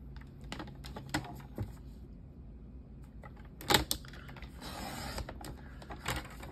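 Card stock being trimmed for a handmade card: quiet, sparse crisp clicks and taps, with one sharper slicing scrape partway through, close by in a still room.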